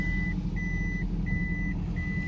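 A car's reversing alarm beeps while the vehicle backs up during a driving lesson: four evenly spaced, sustained electronic tones over a low steady engine rumble, close and clear with no talking.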